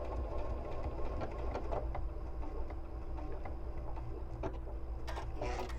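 A sewing machine stitches a paper-pieced quilt block with a steady, fairly quiet mechanical hum and light ticking, followed near the end by a few sharper clicks as its automatic cutter trims the thread.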